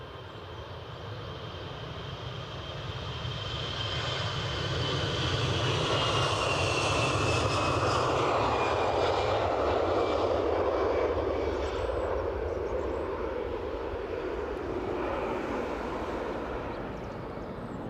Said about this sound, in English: Ryanair pushing back over on the far side.